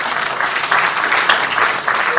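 Close, loud applause from a symposium audience thanking a panel of health-insurance speakers, thick rapid clapping with a few sharper claps standing out.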